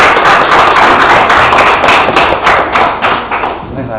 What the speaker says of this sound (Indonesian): Tepuk tangan untuk Kak Alwin.